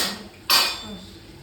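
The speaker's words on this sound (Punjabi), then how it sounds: "ਬਾਕੀ ਮੈਂ ਤਵਾ ਧਰ ਲਿਆ" An iron tawa griddle is set down on a home kitchen stove with a single sharp metallic clank that rings out briefly, then fades into quiet room tone.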